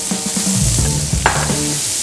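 Celery, onion and carrots sizzle in a hot pan for braised lamb shanks. The frying is loud and steady, and a few clunks and scrapes of stirring break through it.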